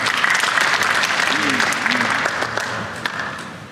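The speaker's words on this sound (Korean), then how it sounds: "큰 박수로 맞으시기 바랍니다" A crowd at an international film martial arts institute gathering claps to welcome a speaker from India, full and steady at first, then slowly tapering, with a brief murmur of voices underneath.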